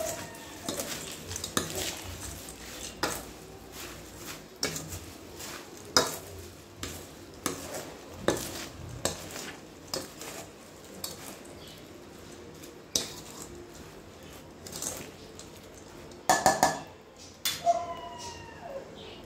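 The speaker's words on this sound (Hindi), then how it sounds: "अब इसे हम मिक्स कर लेते हैं।" A spoon mixes bhel snack with yogurt in a bowl, making quiet, regular scraping and clicking strokes about once a second, with a slightly louder flurry near the end and no voices.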